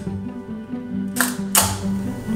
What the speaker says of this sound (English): The Hasselblad is my all-time favorite. And the sound it makes is just unmatched when it comes to a shutter.